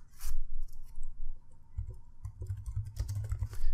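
Someone types on a computer keyboard in short, quick bursts of close, crisp key clicks with brief pauses between them, and no one speaks.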